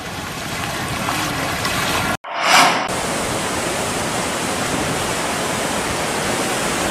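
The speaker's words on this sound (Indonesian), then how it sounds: "Air sungai berwarna keruh mengalir deras dari hulu." The swollen, murky Lubuk Sari river in Padang rushes from upstream after a day of heavy rain, a loud unbroken roar broken only by a brief cut near the middle.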